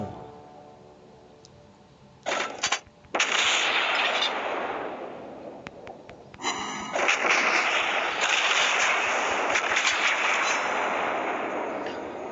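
Heavy warship gunfire from the Bismarck in World of Warships Blitz booms out in a few sharp salvos, then settles into a sustained, loud roar of continuous firing with cracking reports throughout.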